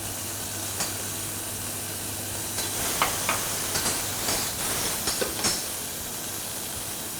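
Garlic, hand-broken anchovies, capers and olives frying in a pan for puttanesca sauce, a steady close hiss and sizzle with a few small pops and stirring clicks, no talk.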